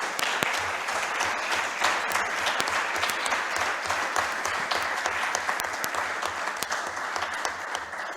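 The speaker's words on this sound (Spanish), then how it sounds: "un aplauso a todos los ponentes" Audience applause for the speakers at a lecture event, a steady dense wash of clapping holding evenly throughout without a break.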